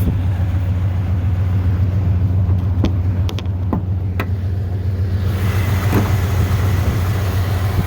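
A 1996 Chevrolet Silverado C1500 with a replacement 5.7 liter Vortec V8 idles close by, a loud, steady low rumble with a few light clicks and a shift in tone near the end.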